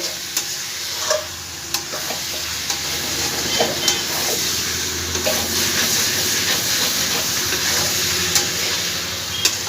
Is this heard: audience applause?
no